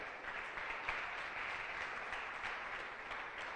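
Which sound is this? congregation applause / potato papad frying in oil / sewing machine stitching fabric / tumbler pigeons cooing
congregation applause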